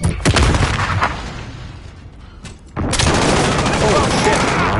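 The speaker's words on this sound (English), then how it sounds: "Friendly precision airstrike on the way." A precision airstrike in Modern Warfare online: a loud booming burst of explosions up front, a lull with distant rumble and a sharp crack, then a second heavy roar of blasts that rumbles on, with a voice talking over it.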